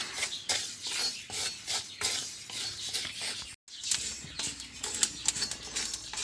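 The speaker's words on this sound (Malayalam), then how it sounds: "പൊട്ടി തുടങ്ങിയിട്ടുണ്ട്. അപ്പോൾ അത് വറവ് ശരിയായി" Rice dry-roasting in a pan for ellunda, grains crackling and beginning to pop in rapid bright bursts with scraping and stirring, close and steady, with a brief pause midway.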